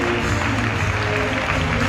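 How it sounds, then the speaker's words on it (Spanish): Audience applausing at a Valencian traditional costume parade, a dense continuous wash of clapping from a crowd, loud and even across the short stretch. "Con un fuerte aplauso."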